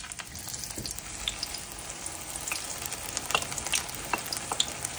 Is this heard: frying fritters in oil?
yes